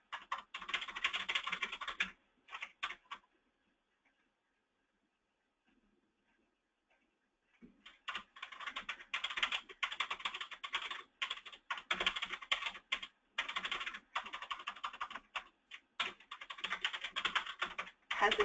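A computer keyboard is tapped rapidly while entering a title in a web content editor, with dense bursts of clicking, a quiet pause of several seconds, then more sustained typing.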